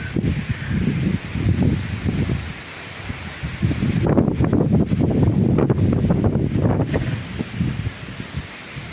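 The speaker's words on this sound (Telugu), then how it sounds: "గాలి తీవ్రతకి చెట్లు అడ్డు కూడా ఇటు ఊగిపోతున్నాయి" Strong, gusty wind from Cyclone Montha on the Godavari riverbank roars across the microphone with rustling, swaying trees, loud and continuous, rising into heavier gusts midway through.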